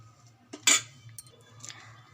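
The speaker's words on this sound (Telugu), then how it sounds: "ఇది పాకం వచ్చేదాకా కలుపుకోవాలి." Jaggery syrup being stirred in a pot on a lit stove, with a few faint metal clinks of the spoon against the vessel over a low steady hum.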